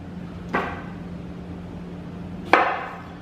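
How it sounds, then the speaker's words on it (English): A knife cuts lemons in half on a cutting board, with two sharp, separate chops about two seconds apart, close and distinct over a low steady hum. "I'm just gonna cut the lemons in half"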